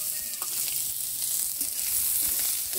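Onions, cumin, green chili and bay leaf fry in a pan for a Bengali potato and pointed gourd dish, giving a steady, close hiss and sizzle with small crackles throughout and no talking.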